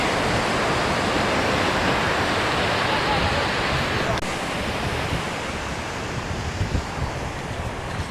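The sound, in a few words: waves on a beach in Riviera Maya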